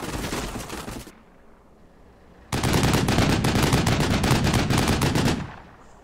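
Tank coaxial machine gun in Combat Mission Black Sea, loud sustained bursts of rapid automatic fire, one burst, a short pause, then a longer rattling burst that fades out.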